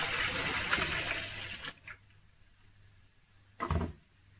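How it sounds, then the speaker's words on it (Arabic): Half a liter of milk is poured for batter, a gushing liquid pour that fills the opening stretch and then cuts off, followed by a short knock near the end. "كنوضعو نص لتر ديال الحليب"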